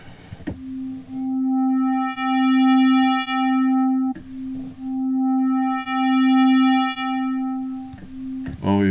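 A synthesizer holds a sustained tone whose filter envelope sweeps the brightness up and back down, twice in a row, with a short click between the swells and a soft noise at the end.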